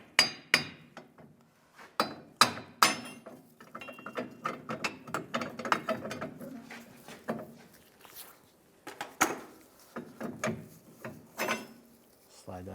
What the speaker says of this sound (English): I'll just use a hammer and just tap this lower plate off.